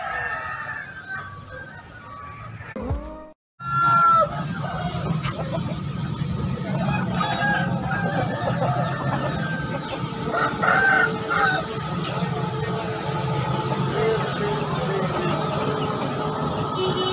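A rooster crows repeatedly at Pasar Daya market in Makassar, loud and close over steady market bustle and a low rumble, with a brief drop to near-silence after the first few seconds.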